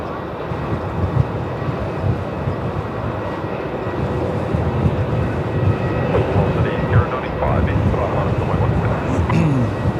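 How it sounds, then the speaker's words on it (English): Jetstar jet arriving at Melbourne Airport on a flight from Launceston, a broad steady roar of engines that swells slightly and holds for the whole stretch, loud and continuous with faint higher whines over it. "That's Jetstar 738 coming in from Launceston."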